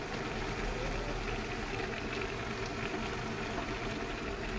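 Homemade aloe vera hair oil bubbling in a pan over a low flame, a steady, continuous seething hiss that holds at an even level throughout, close by and with no voices.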